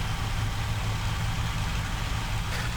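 A P-40C fighter's aircraft engine runs in the IL-2 flight sim during a training flight, a steady low droning roar holding level throughout with no talk.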